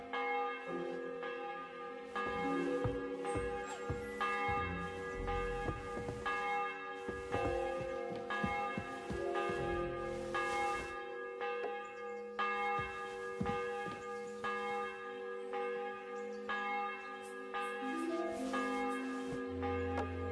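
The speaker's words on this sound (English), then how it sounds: "The bell's ringing for Hans the 5th time." Church bells peal repeatedly in the video game Kingdom Come: Deliverance II, a loud, overlapping run of rich metallic strikes with long ringing tails, steady for about twenty seconds with no voices.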